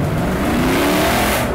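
A car engine revs hard and steady throughout, loud and close, with a rising whine in the drone and no talking.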